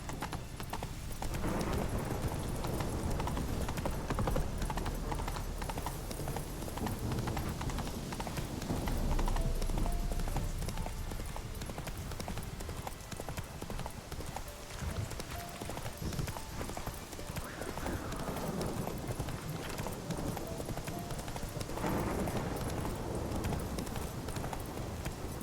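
Hooves of the horse Roach clip-clop steadily through The Witcher video game world, a continuous trotting rhythm with game music and ambience, and a brief whinny.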